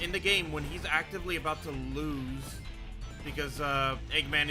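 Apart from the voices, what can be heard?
No distinct noise like a dog, phone or traffic.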